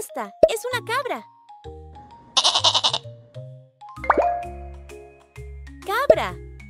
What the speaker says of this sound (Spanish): Esta es una cabra.